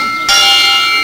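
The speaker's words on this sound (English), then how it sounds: "bell is ringing so that they will enter the dining hall." A monastery bell in Myanmar strikes once, loud and near, calling monks to the dining hall, its metallic tone ringing on and sustaining after a quiet moment.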